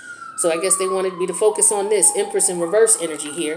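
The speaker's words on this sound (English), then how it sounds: "there's sirens going off because I live near a hospital." An ambulance siren wails from a street near a hospital, its pitch sliding steadily down as it passes outside. It rises and falls beneath a person talking close to the microphone.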